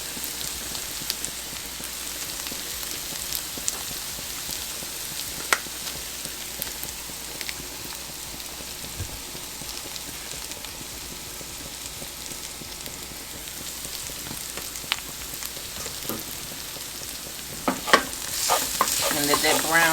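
Impossible ground meat seasoned with cumin and chili lime browns in a pan, giving a steady, even sizzle like light rain for a long stretch, with occasional stirring scrapes and louder crackling near the end.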